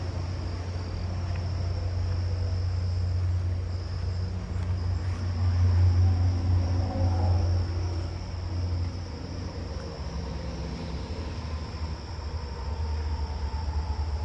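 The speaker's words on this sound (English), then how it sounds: "see if there's any tree crickets in my backyard yet" Tree crickets in a backyard give a steady, continuous high trill throughout, with a faint low hum of distant traffic underneath and no voices.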